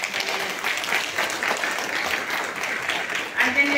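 An audience at a Peruvian labour forum on ILO Convention 190 gives a sustained round of dense clapping, with a voice speaking over the applause.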